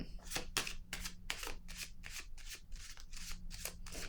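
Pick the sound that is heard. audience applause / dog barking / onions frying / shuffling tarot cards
shuffling tarot cards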